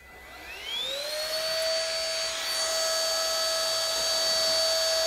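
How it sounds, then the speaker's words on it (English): A stick vacuum runs continuously with a steady high-pitched motor whine, rising as it spins up, while it is passed over washable HEPA and charcoal filters to pull off loose dirt and debris. "I'm going to go ahead and just vacuum both the filters off and get away all that loose dirt and debris"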